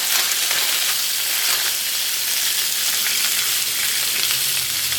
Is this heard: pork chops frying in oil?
yes